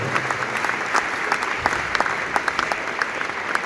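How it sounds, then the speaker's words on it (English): An audience at a film festival awards announcement applauds the award winners, a sustained wash of many hands with distinct individual claps popping out near the front. "So give them a round of applause"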